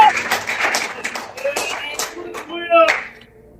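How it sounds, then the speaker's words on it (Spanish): A church congregation claps for the King of Kings during an evangelistic service, rhythmic hand claps mixed with voices and a preacher talking over them. "Dale fuerte el aplauso al Rey de Reyes"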